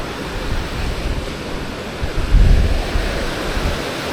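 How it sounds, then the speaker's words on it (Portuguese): Ocean waves and surf at Praia dos Ingleses beach in Florianópolis on a summer day, a steady broad roar of breaking water with one surge swelling louder midway, mixed with wind noise. "Mas hoje está com um pouquinho mais de ondas."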